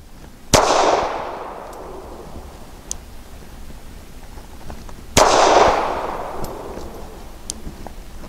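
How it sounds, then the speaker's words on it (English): Two loud, sharp pistol shots from a Springfield Armory 380 911 at an outdoor range, several seconds apart, each followed by a long fading echo. "I'll be shooting at the left circle square."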